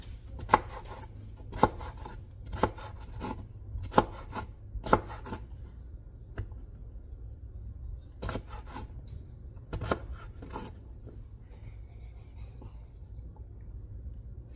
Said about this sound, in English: I'm cutting up my green papaya